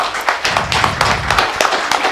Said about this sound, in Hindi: जयंत कस्तुआर जी के लिए जोरदार ताली।